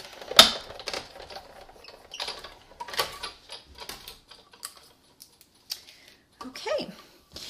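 A Big Shot die-cutting machine cranks a card through its plates, giving a string of irregular clicks, rattles and scraping knocks at close range, with a sharp burst at the start and quieter ticking afterwards.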